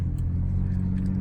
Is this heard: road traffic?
yes